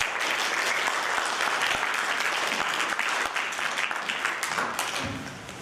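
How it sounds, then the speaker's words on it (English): A large audience at an evening talk gives a big round of applause, dense continuous clapping that holds strong for several seconds before starting to taper off. "A huge round of applause"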